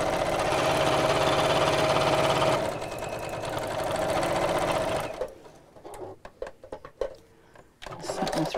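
A sewing machine stitches fabric bag pieces together, a loud steady whirring run for about five seconds that stops abruptly, followed by scattered light clicks and handling knocks.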